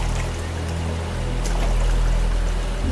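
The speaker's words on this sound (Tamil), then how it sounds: "ஷூ அழுக்காயிடுச்சுடி, அதான் கழுவிட்டு இருக்கேன்." Water pours and trickles steadily while a dirty shoe is being washed, a continuous splashing stream over a low rumble, with no talk.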